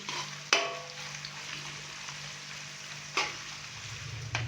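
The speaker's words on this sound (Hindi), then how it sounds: "प्याज डालने के बाद हम प्याज को अच्छे से फ्राई करेंगे" Onions frying in cooking oil in a kadhai for beef biryani make a soft, steady sizzle, broken by a few sharp clanks of stirring against the pan.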